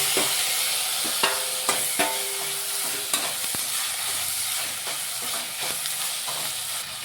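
Ginger garlic paste and chopped tomato fry in a pan with a steady, loud sizzle, broken by a few sharp clacks of a spoon stirring against the metal; no one speaks.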